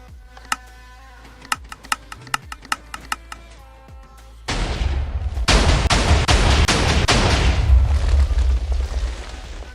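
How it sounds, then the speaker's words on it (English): Modded cannon in the FTAM game blasting into a wall, first a run of sharp clicks, then a sudden loud sustained barrage of explosions and crashing booms that roars on to the end. "It's gonna basically fire straight into this wall, blow up, instantly make the next one blow up again"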